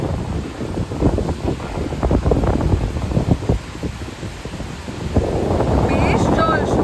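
Sea waves and strong wind at Mandarmani beach, a broad steady rush with wind buffeting the microphone, swelling louder near the end as surf builds, with people talking faintly underneath.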